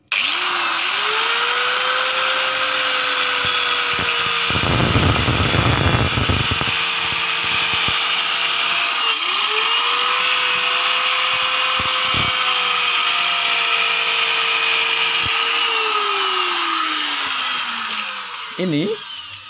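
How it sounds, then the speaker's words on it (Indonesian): Angle grinder cutting PVC pipe for a greenhouse frame, a high whine that rises and falls through two cuts with a short rough grinding burst between, and a voice speaking at times. "Sediakan ya alatnya, gerinda."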